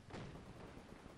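An anti-tank gun fires in the video game Company of Heroes 2, a single distant, muffled boom with a short rumbling tail, faint and alone.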